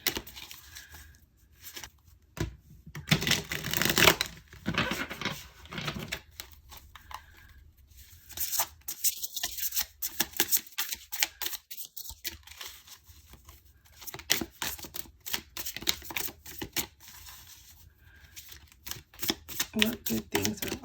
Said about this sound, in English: I'm gonna draw some tarot cards first for you guys.